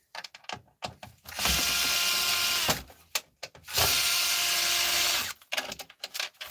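A power screwdriver undoes screws at the back of a device in two sustained whirring bursts, each lasting over a second, set among short clicks and handling knocks close by.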